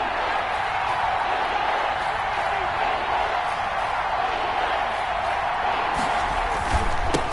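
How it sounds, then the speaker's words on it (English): A stadium crowd at an American football game roars in a dense, steady wash of cheering before a big third down, with occasional sharper claps and shouts near the end. "The crowd getting into it as we come up on a big 3rd down."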